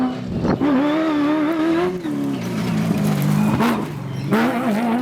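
Big rally raid cars with 30-inch-plus tires race on a sandy stage in South Africa. Loud, close engines rev and drone with rising and falling pitch, and tires scrub over loose sand as the cars pass.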